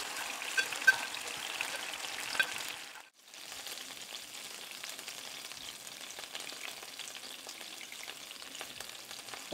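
Steady frying sizzle of pre-cooked meatballs' pan as sunflower oil is added, a dense crackling hiss that dips briefly to near silence then resumes evenly, close and moderately loud with no talk.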